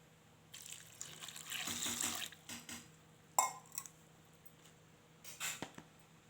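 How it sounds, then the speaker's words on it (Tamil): Water is poured into a cooking pot of pumpkin kuzhambu with tamarind in a home kitchen, heard as faint splashing bursts with a brief clink of metal between them. "தேவையான தண்ணி ஊற்றிக்கலாம்"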